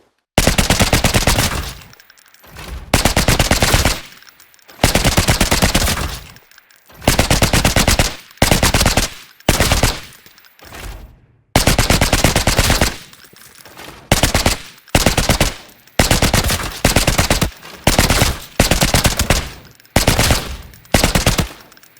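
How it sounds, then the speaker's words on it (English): A new gun fired on the shooting range in Arena Breakout Infinite, with loud, close bursts of automatic fire repeating at a steady pace, broken by short pauses between strings of shots. "Let's take it into the range and see how it shoots."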